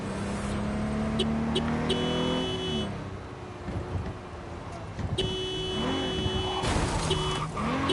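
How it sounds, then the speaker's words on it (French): Car horn honking in the Cyberpunk 2077 video game, a few sustained tonal blasts over continuous engine and driving sounds, loud and close, with a voice talking now and then. "Eh, j'ai klaxonné, vous étiez prévenus."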